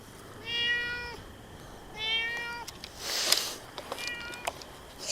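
A cat meows three times, drawn-out calls a second or so apart, fairly close, with some rustling and faint movement between them.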